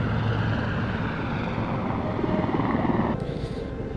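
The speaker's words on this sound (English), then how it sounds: "we just got dropped off by helicopter in this really cool place" Helicopter in the Hitman video game after a drop-off, a steady whirring rotor and engine drone that holds constant and fairly loud, then dips slightly near the end, with no talk.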